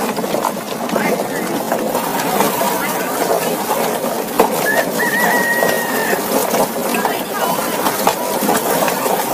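A pigeon or dove coos amid a busy, noisy background with steady broadband hum, the calls soft and partly masked; a brief whistle-like tone appears midway.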